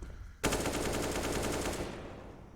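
A burst of rapid automatic gunfire from a wallbang spray in a Counter-Strike match on the Ancient map, loud and sharp at onset, then a fast rattling volley lasting over a second before fading out.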